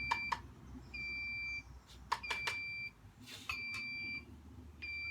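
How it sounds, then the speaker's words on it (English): Short electronic beeps in repeated pairs of high tones from a beer-brewing machine signalling its Hefeweizen wort has reached the boil, over a low steady hum, with a few clicks in between. "Yeah, it's starting beeping, it is boiling now"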